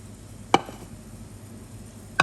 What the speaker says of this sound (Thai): ต้นหอมเราก็หั่นแล้วนะ หั่นท่อนยาวๆเหมือนกัน